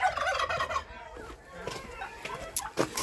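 Turkeys out grazing alongside geese give gobbling and clucking calls in short bursts against some background noise, at a moderate distance and fairly quiet.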